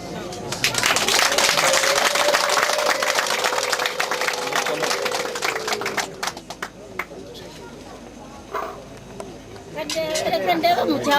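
A crowd of wedding guests claps in a dense, steady patter that fades after several seconds, while someone speaks over a loudspeaker above the applause.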